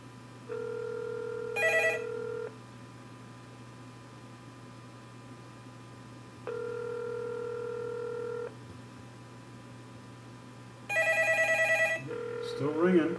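A Nettalk TK6000 phone rings in three separate bursts of steady electronic tone with pauses between, each burst ending in a brighter trill, heard fairly clearly over a low background hum.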